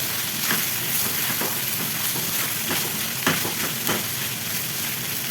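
Vegetables sizzling in a hot pan over medium-high flame while being stirred, a continuous frying hiss with scraping stir strokes and occasional louder clatters, no voices.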